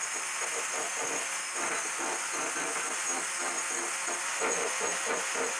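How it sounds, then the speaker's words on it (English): An angle grinder runs against the edge of a wooden board, cutting slashing marks and divots: a steady high whine with a grinding hiss that pulses in short repeated passes, close and continuous, without talking. "I use some slashing marks with the grinder"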